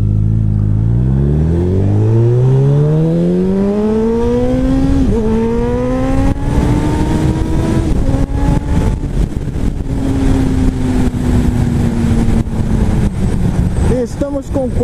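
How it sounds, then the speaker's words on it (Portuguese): Motorcycle fitted with a Yoshimura R77 exhaust revs up loudly and steadily, a deep rumbling engine note rising and falling in pitch over several throttle blips, close by and continuous. "Um escapamento com um ronco um pouco mais grave."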